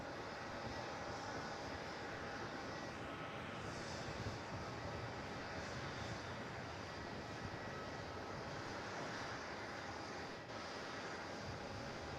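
A passenger airplane departing Melbourne Airport for Adelaide: a sustained, broad engine roar at a distance, steady and even throughout, with no voices.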